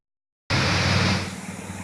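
Water rushing through a gorge in Maine, cutting in abruptly after silence as a steady, close, broadband roar that eases slightly toward the end.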